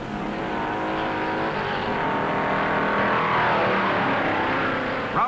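Stock cars roar around the track in the 1958 NASCAR Southern 500, a steady loud engine drone with overlapping motors that swells mid-clip, heard alone without talk.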